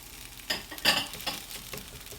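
Cooked egg stirred into fried rice in a hot pan, with a soft sizzle under a few scraping strokes of a spatula that come in short, uneven bursts.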